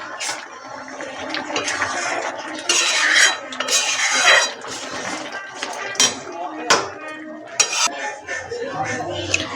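Metal pot of mocha dal, banana-flower lentils finished with garam masala and ghee, lifted off a kitchen stove, with loud clanks and scrapes of cookware and cutlery in irregular bursts close by.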